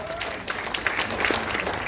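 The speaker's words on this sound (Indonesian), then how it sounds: "Berikan tepuk tangan buat Tuhan kita." A church congregation claps briefly, a dense patter of hands, with voices mixed in.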